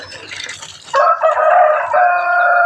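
Large native chickens on a Filipino backyard farm: a burst of clucking and mixed fowl calls gives way to a loud, sustained rooster crow close by, with a second crow following.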